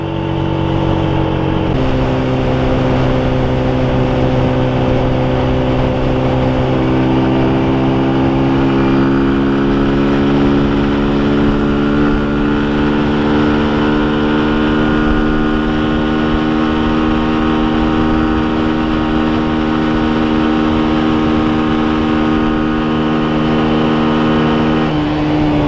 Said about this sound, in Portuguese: Você vem de Dream aqui, é uma moto pequena